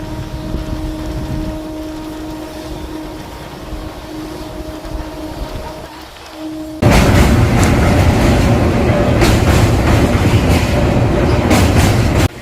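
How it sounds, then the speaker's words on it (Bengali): Passenger train running on rails on the Howrah–Puri route after leaving Uluberia station: a steady low rumble with tonal hum, then a sharp jump to a loud, broadband roar with rhythmic clattering bursts from about seven seconds on, no talk. "5 মিনিট দাঁড়িয়ে তারপর উলুবেড়িয়া স্টেশনটি ছাড়ল।"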